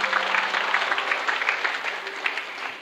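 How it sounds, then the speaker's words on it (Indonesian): Audience applause breaks out during an Indonesian religious talk about loving God, a dense, steady patter of many hands at moderate level, slightly fading toward the end with a faint hum beneath. "Beri tepuk tangan."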